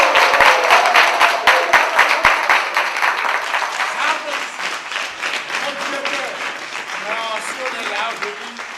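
Audience applause at a live comedy show, dense clapping loud at the start and thinning over several seconds, with voices and chatter rising through it.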